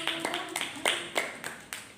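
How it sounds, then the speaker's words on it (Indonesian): A few people in a classroom clap for a student group in sparse, uneven claps that rise and fall, with faint voices underneath. "tepuk tangan semuanya untuk kelompok 1."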